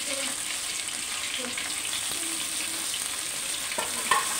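Washed chicken pieces fry in a pan with onions and chillies for an Andhra-style chicken gravy curry, giving a steady close sizzle with occasional stirring scrapes and a small clatter near the end.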